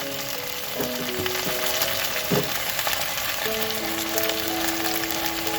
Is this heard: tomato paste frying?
yes